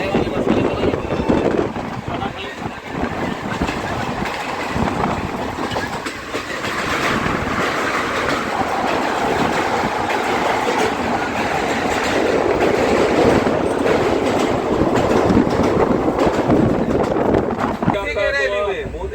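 Purabiya Express, a crowded Anand Vihar to Saharsa festival special passenger train for Chhath Puja, running at speed: a loud, continuous rumble with rhythmic clickety-clack of the wheels and wind buffeting, heard from inside while people talk throughout.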